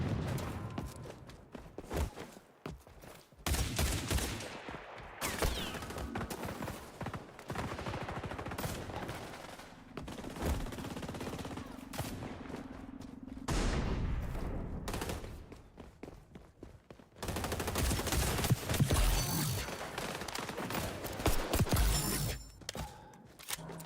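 A weapon fires in the shooter game XDefiant, with loud rapid bursts of gunfire broken by short pauses and a few brief quiet gaps, the shots close and punchy.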